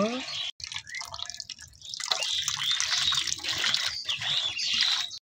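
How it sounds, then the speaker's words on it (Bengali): Onions and green chillies are rinsed under running water in a kitchen, with a steady trickle and dripping splashing loudly and continuously after a brief pause, while a person talks over it. "পেঁয়াজ মরিচগুলো ধুয়ে নেব"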